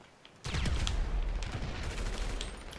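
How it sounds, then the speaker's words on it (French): A sudden burst of rapid gunfire in GTA 5 Online, loud close shots breaking in after a short quiet moment and continuing as a dense fusillade. "Oh, ça tire là."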